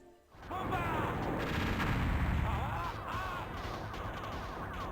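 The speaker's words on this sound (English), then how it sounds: "His bomb shot is the Scattering Phoenix missiles, which lays out a nasty salvo that cover the entire screen" A Scattering Phoenix missile salvo fired in the arcade shoot-'em-up Storm Blade rolls out as a loud, dense barrage of overlapping blasts that holds steady for several seconds.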